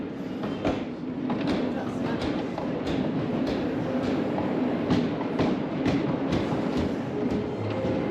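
Wooden roller coaster train at Plopsaland De Panne, running with one train on the circuit, rumbling and clattering steadily over the track with sharp clicks throughout, loud and close, with faint voices mixed in.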